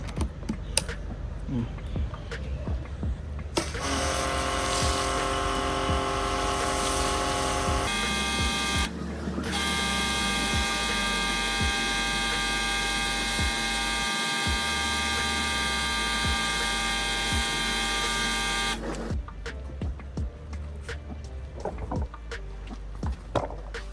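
A FLOW R1 PRO SERIES high-pressure washer with a foam attachment kicks on and runs with a loud, steady motor whine and spray hiss for about fifteen seconds, dipping briefly once before shutting off.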